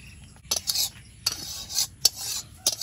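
Masala paneer curry is scraped from a pan onto a plate in several short bursts, with metal scrapes and clinks set against quiet pauses.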